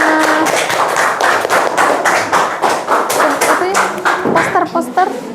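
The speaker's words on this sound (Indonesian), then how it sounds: "Beri tepuk tangan buat temannya." Classroom of pupils clapping for a presenting group, loud rhythmic unison claps close by, with children's voices and chatter mixed in toward the end.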